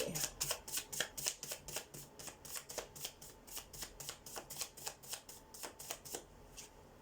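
Makeshift playing cards being shuffled by hand, a close run of quick riffling flutters that repeat in a steady rhythm of short bursts, fairly quiet and with no talking.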